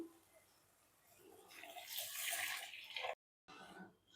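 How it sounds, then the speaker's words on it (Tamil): Tamarind water pours and splashes steadily into a pot, growing louder for a couple of seconds before breaking off briefly, then resuming more quietly, while making pepper rasam. "இப்போ புளி தண்ணி சேர்ப்போம்"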